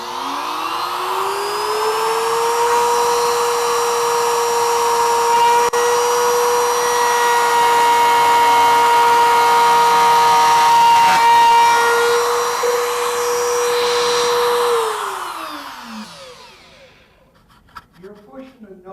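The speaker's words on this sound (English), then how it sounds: "You're pushing the nose of that router up against the wood as you move it around?" A router spins up to a steady high whine while cutting decoration into a wooden bowl, holding a loud constant pitch for about fifteen seconds before winding down, followed by brief speech.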